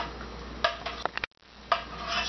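Paint scraped and pushed together with a palette knife in a few short, gritty strokes, followed by a brief silence and then more scraping, close and fairly quiet with no talk.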